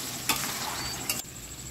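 Chicken kosha being stirred in a pan: a soft sizzle runs throughout with two brief scraping stirs of a utensil against the pan, close and fairly quiet.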